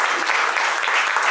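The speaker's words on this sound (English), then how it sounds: "And now you all truly deserve a round of applause." Dinner audience at an annual gala celebration applauding, a dense steady wash of many hands clapping close and loud throughout, with no pause.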